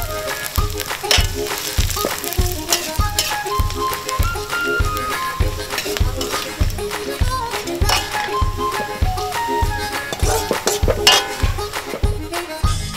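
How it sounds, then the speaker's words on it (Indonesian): Tempeh fries in hot oil until crisp, a continuous loud sizzle and crackle up close, with occasional taps and stirring under steady popping. "Tinggal goreng tempe sampai kering."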